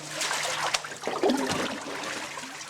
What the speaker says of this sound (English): it must be allowed to drain slowly through the bamboo mold